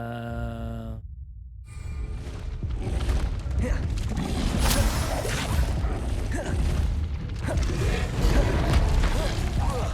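Incendio fire spell cast in the Hogwarts Legacy game, a sudden whooshing burst of flame after a brief silence, followed by a sustained, dense crackling roar with more bursts throughout.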